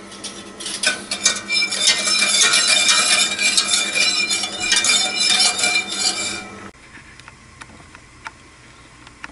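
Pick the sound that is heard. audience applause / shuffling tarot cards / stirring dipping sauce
stirring dipping sauce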